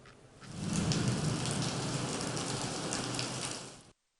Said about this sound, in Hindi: शहर कायद में बारिश का सिलसिला वक्फे वक्फे से जारी रहा।